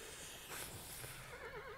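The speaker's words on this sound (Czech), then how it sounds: "Ne, on je zase unavený, ten kůň" A horse whinnies in the video game Kingdom, a short, fairly quiet neigh with a wavering, quavering tail heard alone over soft background noise.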